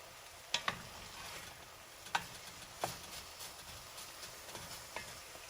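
Garlic cloves and jalapenos frying in a pan, with a faint steady sizzle and a few sharp, isolated pops and spits scattered across it.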